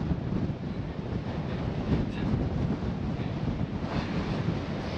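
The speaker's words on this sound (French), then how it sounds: "il y a un vent à décorner les bœufs" A steady, heavy mountain wind rushes across an open space during a chamois hunt, a broad roaring hiss that swells slightly in places, with no voices.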